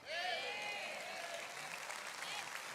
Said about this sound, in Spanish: Es un aplauso para Jesús.